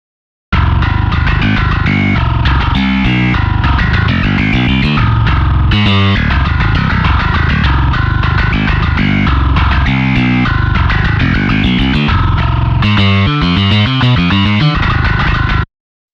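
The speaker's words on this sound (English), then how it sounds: "Next is the processed tone." A heavily processed, distorted bass guitar from the Nuclear Bass library plays a low-tuned riff, loud and dense with chugging palm-muted rhythms and rapid tremolo-like bursts, alone with no talk.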